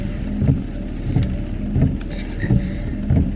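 Heavy rain pouring down during a typhoon outside a grocery run, a steady broadband wash with repeated swells of louder gusting downpour, close and continuous with no talking.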